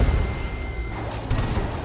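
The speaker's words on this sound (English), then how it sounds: "Uh-oh, Assault Cannon Barrage." Assault Cannon Barrage in the strategy game Dawn of War 2, a dense rattle of rapid heavy gunfire and booming impacts in a thick battle din, loud and continuous for under two seconds.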